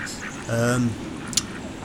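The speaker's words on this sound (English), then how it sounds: "gave me an unexpected problem of ducks swarming around the casters." A duck quacks once, a drawn-out nasal call close by at a park lake, over steady outdoor ambience with a faint click after it.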